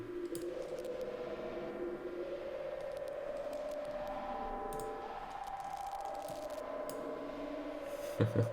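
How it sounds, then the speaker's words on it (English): Dense crackling and clicking noise with a droning tonal layer beneath, steady throughout, ending in a brief louder burst, made with Ableton's Echo effect. "Some crackles."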